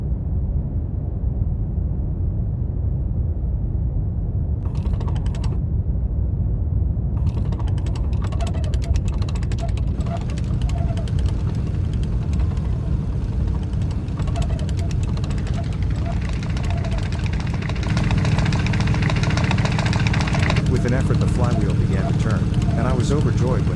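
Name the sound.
hand-cranked old engine starting, Lagazuoi VR video game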